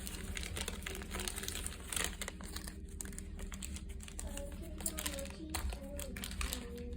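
Last bit of a roll of tape handled up close, with crinkling, peeling and short tearing sounds in quick irregular bursts, quiet and near, in an indoor setting.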